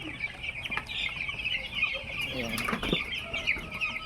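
Ten-day-old broiler chicks in a poultry house keep up a dense, continuous chorus of high peeping and clucking, with occasional wing flutters. The flock sounds close and fills the space.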